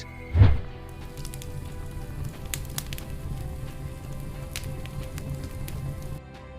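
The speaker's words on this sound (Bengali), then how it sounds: "আর আগুনে পড়ে যাওয়া জ্বলন্ত কাঠের আওয়াজ" Burning wood crackles in an outdoor fire with sparse sharp pops and a soft continuous hiss, opening with a dull thump, heard close and moderately quiet without speech.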